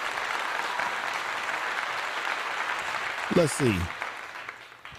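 A crowd applauds in a steady, dense patter of clapping that continues throughout, with someone briefly speaking over it near the end.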